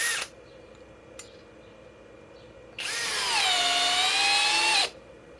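Flex FX1231 compact hammer drill on a 2.5 battery driving a 5-inch screw into wood, one loud sustained whirring run of about two seconds with pitch sagging under load, preceded by a brief trigger blip.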